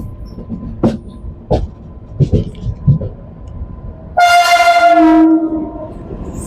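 A passing train sounds a long, loud, steady horn for passengers aboard the 22691 Bengaluru to Delhi Rajdhani Express, after a few dull knocks and quieter rail noise.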